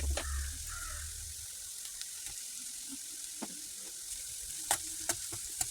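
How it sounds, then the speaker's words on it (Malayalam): Crushed ginger and garlic sauté with half-cooked onion in a pan, giving a soft, steady sizzle broken by several sharp scrapes and clicks of stirring. "ഇനി ആ ഇഞ്ചിയും വെളുത്തുള്ളിയും സവാളയോടൊപ്പം ഒന്ന് വഴറ്റിയെടുക്കാം നമുക്ക്."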